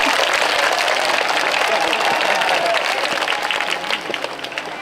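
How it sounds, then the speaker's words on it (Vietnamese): Audience applause at a Platinum Global Christmas and New Year 2019 celebration, a dense sustained wash of clapping and crowd noise that stays loud, then thins slightly toward the end. "I ask you please put your hands together for Miss Q."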